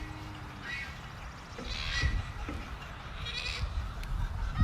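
Goats bleating on a farm while their hooves are being trimmed, a few faint, wavering calls over a steady low rumble of background noise.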